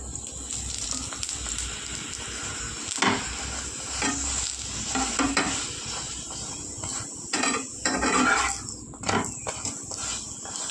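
Carrot paratha fries in oil in a pan with a steady, close crackling sizzle that swells and dips throughout, with a few brief scraping or stirring bursts and no voices.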